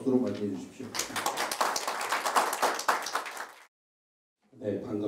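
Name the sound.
audience applause welcoming a speaker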